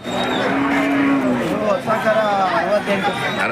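Hallikar cattle low repeatedly at a livestock sale, long drawn moos rising and falling close by, with a continuous murmur of people talking underneath.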